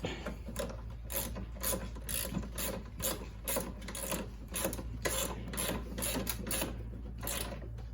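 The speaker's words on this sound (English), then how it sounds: "use a ratcheting wrench to tighten up the bolt" A ratcheting wrench tightens a bolt while replacing the rubber paddles on a 21-inch Toro snow blower. Close, crisp, rapid clicking comes in bursts of strokes over a low steady hum.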